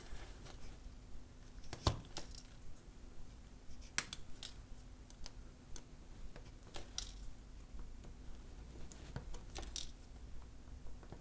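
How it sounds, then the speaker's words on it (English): Snips of small cutters trimming component leads on a wireless FM microphone kit board, a few sharp clicks scattered through a quiet workbench background with a faint steady hum. "We'll cut the rest of these leads off."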